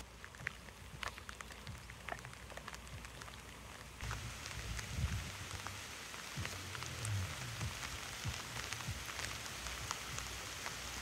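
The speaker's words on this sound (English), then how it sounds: "This rain is a little bit more tolerable, but if it starts to rain too hard, I might have to pack it up." Steady rain falls outdoors, patters on surfaces and grows a little heavier partway through, a soft continuous wash with scattered drops and no voices.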